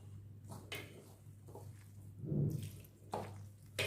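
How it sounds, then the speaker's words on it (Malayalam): Water poured into a bowl of cauliflower pakoda batter, with soft splashes and wet mixing sounds in separate short bursts. The sounds are quiet and close, with a low background hum. "ഇനി നമുക്കതിന് ആവശ്യത്തിന് വെള്ളം ഒഴിച്ചിട്ട് കുഴയ്ക്കാം"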